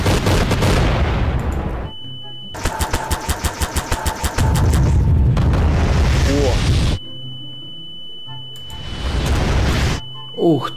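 Bombs explode in the video game Garry's Mod: heavy booming blasts, then a rapid string of sharp crackling bursts, with a high ringing tone hanging in the pauses. Voices are heard briefly.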